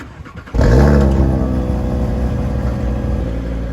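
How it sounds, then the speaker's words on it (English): A 2018 Audi RS3's 2.5-liter five-cylinder exhaust fires up abruptly after a quiet moment, then holds a loud, deep, burbling rumble close by that eases slightly as it settles. "Here's what the exhaust sounds like."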